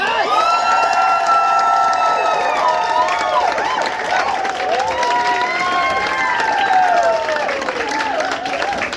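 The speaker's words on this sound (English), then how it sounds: "including our soloist Shannon, come enter the stage for a big old round of applause." An audience at a dance show curtain call claps and cheers loudly and continuously, with whoops and excited shouting rising above the steady applause.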